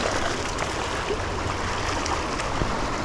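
Fast-moving water of an urban river in Utah, a steady broadband rush and churn close by, continuous for the whole stretch with no talking.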